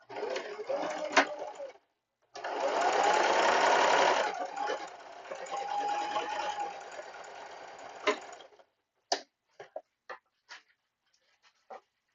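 A sewing machine runs in bursts of steady mechanical whirring, stopping and restarting, then a handful of sharp separate clicks as it halts, close by in a quiet room.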